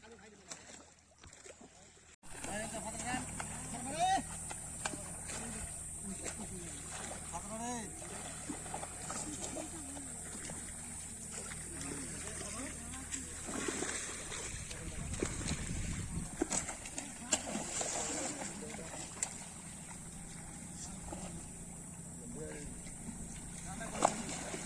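A fishing net is hauled through a large village pond while fish churn and splash in the muddy water, with steady sloshing and bursts of splashing close by under continuous talk from several people.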